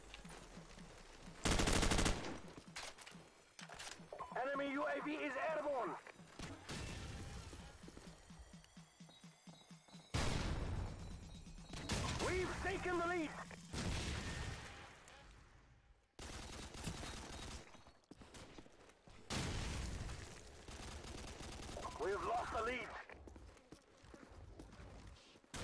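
Rapid gunfire from Call of Duty 4: Modern Warfare, with machine-gun bursts and single shots over roughly 25 seconds, loud and close, separated by short pauses and scattered game effects.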